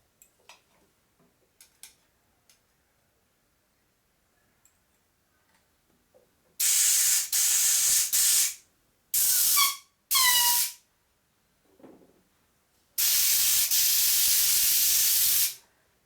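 A compressed air nozzle blows under a motorcycle grip on a custom chopper to force it off, sharp hissing blasts of several seconds each, one sputtering and squeaking as air escapes, after quiet scattered clicks.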